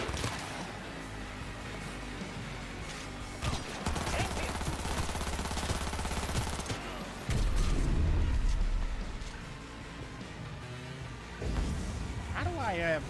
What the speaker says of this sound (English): So let's switch to submachine gun.